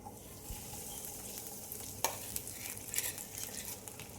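Beetroot cutlets pan-fry in a little oil, a soft constant sizzle with a few sharp clicks and scrapes as the pieces are turned.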